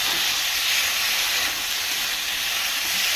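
Ground coriander, dried chili powder, salt and turmeric sautéing in a hot pan give a steady, close, broadband hiss that holds evenly throughout without pauses.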